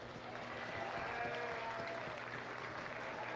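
Audience applause in a county fair livestock arena, steady continuous clapping from a scattered crowd heard at a distance, faint and even, with slight background murmur.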